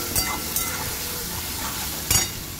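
Spice paste sizzles and hisses steadily in a kadai with fried onions as it is sautéed, with a few scraping stirs of the spatula cutting through the frying.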